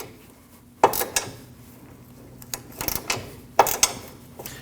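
Ratchet wrench spinning a 17mm nut on a sway bar link of a 2003-2008 Subaru Forester during a front lower ball joint replacement, making a few sharp clicking, ratcheting bursts between quieter gaps.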